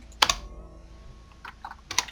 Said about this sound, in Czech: sorry, se to jak mlátím do té klávesnice